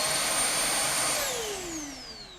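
A Xiaomi Jimmy JV83 cordless upright vacuum cleaner runs with a loud steady whine, then its motor pitch falls as it winds down, with no talking.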